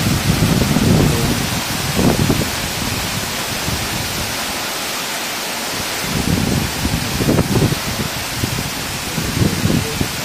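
Steady, heavy rushing of Morialta Falls after heavy rain roars throughout, with gusty swells of wind buffeting over the spurting water.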